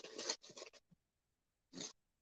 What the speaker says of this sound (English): I'm just trying to get the plastic off